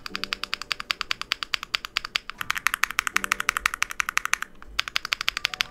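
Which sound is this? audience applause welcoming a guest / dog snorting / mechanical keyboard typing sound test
mechanical keyboard typing sound test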